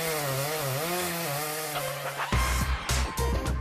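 A chainsaw is fired up, first a wavering motor hum, then loud, close roaring bursts as the engine catches and revs several times.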